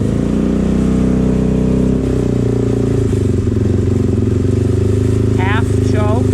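A Suzuki DRZ400S motorcycle engine runs on choke at a steady, rich idle, loud and close, with a continuous low throbbing drone that holds throughout.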